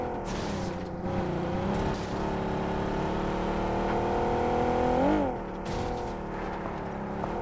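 A car drives steadily in PUBG Mobile, its engine a sustained loud hum with a brief pitch swell near the end, running alone without talk.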